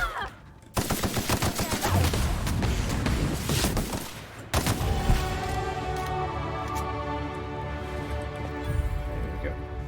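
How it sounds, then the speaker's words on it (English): Rapid automatic cannon fire in the video game The Outer Worlds, a dense loud burst of repeated shots and booms, then a brief pause and more gunfire with a lingering ringing tail. "That's not a Raptidon, that's a cannon."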